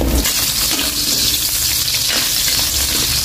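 Chopped ginger sautéing in hot oil in a pan for beef nilaga, giving a loud, steady, dense sizzle throughout with faint stirring scrapes and no voices.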